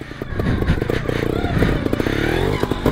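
A trials motorcycle is ridden close by, its engine loud and continuous with rapid throttle pulses and rattling, clattering knocks from the bike over rough ground.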